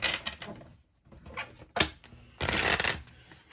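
Tarot cards are shuffled and pulled from the deck in several quick, close bursts of papery riffling and slapping, separated by brief pauses.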